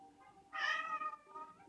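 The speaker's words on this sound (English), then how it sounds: "Yes, that is my cat" A pet cat gives a single clear meow lasting about a second, fairly close and alone, with a faint tail of sound trailing after it.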